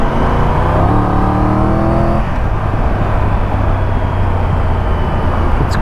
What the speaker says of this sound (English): Why did you rev so much?